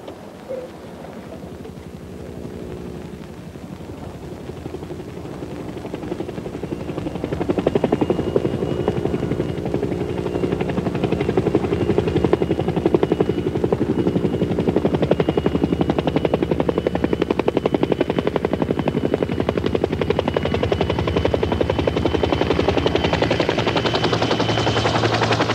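A helicopter is heard flying overhead, bringing a Buddhist monastery abbot to a remote site; the thudding rotor and engine roar grows louder after several seconds and then holds steady and close for the rest of the stretch.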